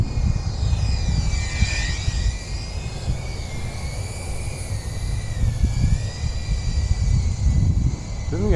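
Cinewhoop drone with 8-bladed propellers flies in wind, a continuous high buzzing whine whose pitch wavers and bends as it maneuvers, over gusty low rumble.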